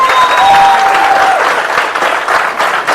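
A meeting audience claps loudly and steadily in a dense, sustained burst of applause that fills the room for the whole stretch, with a faint tone briefly audible early on.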